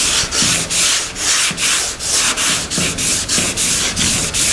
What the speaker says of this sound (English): I'm going to go like this over top of it anyway with the 80 grit